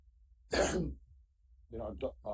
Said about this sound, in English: excuse me for coughing here